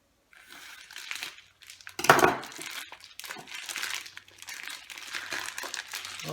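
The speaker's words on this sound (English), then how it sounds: "So we'll just start out quite simply by opening up the bag." A plastic bag holding raw beef for bresaola is opened over a sink, with close crinkling and rustling, one louder crunchy tear near the middle, then softer continued crumpling.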